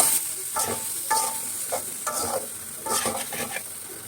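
Vegetables frying in a pan with salt and turmeric for a fish curry, a continuous close sizzle broken by repeated rhythmic scrapes of a stirring spoon.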